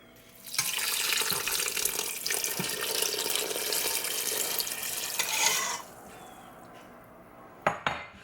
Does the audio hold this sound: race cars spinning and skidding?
no